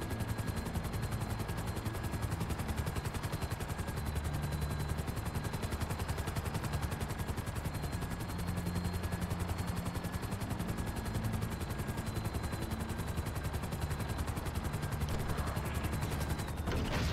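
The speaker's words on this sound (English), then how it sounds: "The white chopper just blends in with the smoke." Rapid, continuous gunfire rattles alongside a helicopter's rotor drone in a video game battle, a dense, steady barrage of shots at moderate level throughout, with no talking.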